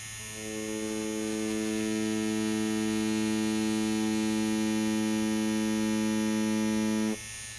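A tattoo machine runs on fake skin as a steady, loud electric buzz with a constant pitch, droning alone for about seven seconds before cutting off.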